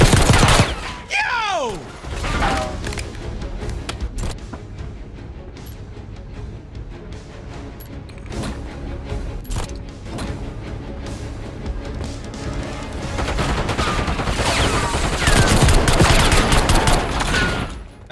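Dense bursts of automatic gunfire and rapid shots crackle through a Black Ops 6 campaign firefight on Veteran difficulty, loud and sustained with a few heavier booms, surging again toward the end.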